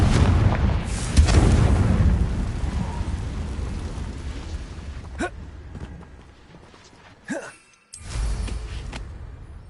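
A Confringo blasting spell explodes in the video game Hogwarts Legacy with a loud booming burst that rolls into a fading rumble, followed by smaller crackling impacts and a short whooshing effect.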